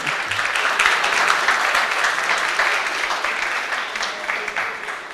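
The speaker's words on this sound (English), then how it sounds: "Please keep clapping." Audience at a science and technology innovation challenge closing ceremony keeps up steady, dense applause, a loud continuous wash of clapping from many hands.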